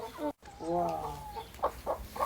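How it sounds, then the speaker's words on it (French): Hens being delivered to a coop cluck and murmur close by, with a few short sharp clucks standing out near the end and brief mixed noise at the start. "Troisième étape, livraison des poules directement."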